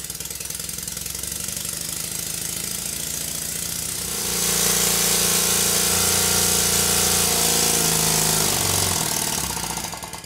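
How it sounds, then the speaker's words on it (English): A small Stuart Sirius model steam engine runs fast with a rapid, harsh mechanical chatter that grows louder and hissier midway, continuous and close throughout. "This is the high speed run where ice actually forms on the manifold and the exhaust pipe."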